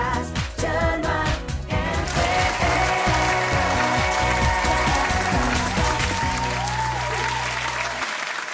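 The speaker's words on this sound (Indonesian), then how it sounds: "Sekali lagi kita berikan tepuk tangan yang paling meriah untuk juara pertama, kedua, dan ketiga" Loud, sustained crowd applause for the first, second and third place winners at the grand final of the 2017 MPR Four Pillars quiz competition in West Kalimantan, dense clapping with music playing underneath.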